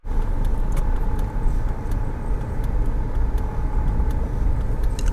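A car reversing to turn around on a road, its steady engine hum and road rumble sounding close and continuous, with light jingling ticks scattered on top.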